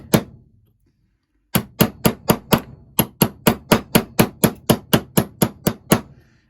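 A socket is struck with a hammer to tap a replacement crank bearing into an Echo backpack blower: one blow, a pause, then a steady run of about seventeen sharp, loud, close metallic taps at an even rhythm, with no voices.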